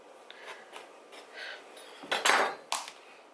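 A kitchen knife saws through a whole acorn squash to split it in half, giving a few scraping strokes and then a louder crunch and knock as the blade breaks through, close up with no talking.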